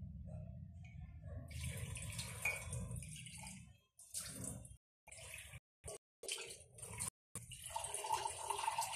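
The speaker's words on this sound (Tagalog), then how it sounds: "Lagyan natin siya ng tubig para dyan na po natin siya pakuluan." Water from a tap pours into a cooking pot for boiling okra and eggplant, a close rushing stream that repeatedly stops and restarts in short bursts.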